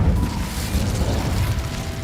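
The Incendio fire spell in Hogwarts Legacy roars as a dense, steady whooshing burst of flame with a low rumble, loud and close throughout.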